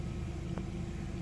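A 2014 Hyundai Santa Fe with a 2.0 turbo engine idles steadily after an oil change, a low, even rumble with no revving, close by and without talk.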